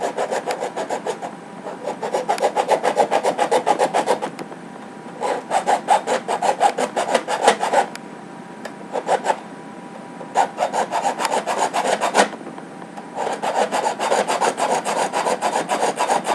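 A file rasps a notch into the brass end of a full-length guide rod for a Retaliator blaster, in repeated bursts of fast back-and-forth strokes separated by short pauses, close and loud with no talk.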